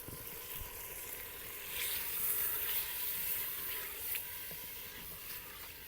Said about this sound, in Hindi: तो इसको थोड़ा सा हम ना फ्राई कर लेंगे चिकन के साथ सारे मिसालों को, अदरक लहसुन खसूसी तौर पे जो है ना।